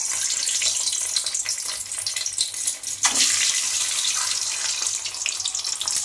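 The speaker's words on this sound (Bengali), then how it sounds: "তেল গরম হয়ে গেছে, এই যে ডিমগুলো দিয়ে দিচ্ছে।" Eggs fry in a little hot white oil in a wok, giving a steady, loud hissing sizzle throughout, with a brief extra spatter burst midway and no talking.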